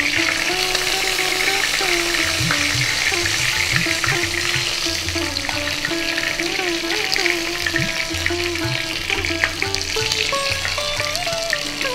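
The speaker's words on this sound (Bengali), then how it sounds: "বাদ বাকি মাছগুলো এইভাবে ভেজে নেব।" Pieces of rawas (salmon) fish fry in hot oil with a continuous crackling sizzle, running loud and steady throughout, joined by a background tonal melody.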